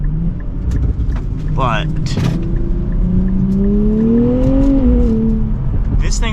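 A 2024 Nissan Z Nismo hums from the cabin on a test drive, a steady engine drone rising in pitch as it accelerates and then easing off, with a driver talking over it.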